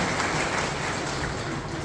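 Loud, dense applause from an audience at an outdoor political rally speech in Sendhwa, a continuous roar of clapping filling the whole moment with no voices on top.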